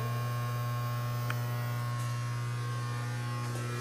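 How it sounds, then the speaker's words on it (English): Vacuum system on a powder applicator machine that drops adhesive powder onto prints, giving a steady, continuous electric hum and drone with a few faint clicks, running alone at a low level. "This is obviously the vacuum system"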